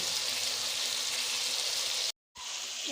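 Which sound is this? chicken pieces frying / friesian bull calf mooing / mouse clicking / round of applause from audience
chicken pieces frying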